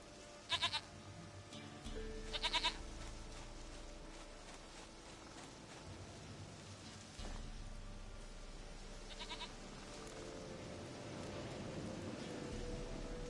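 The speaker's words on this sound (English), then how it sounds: "Goat of mine, dearest," Goat bleats from The Witcher 3, short nasal calls repeating at intervals over a soft rain-like game ambience with low background music, fairly clear but moderate in level.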